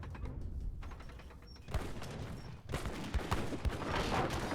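Mortar fire in a strategy video game battle: dull thuds and crackling bursts of distant gunfire, building in density and loudness toward the end.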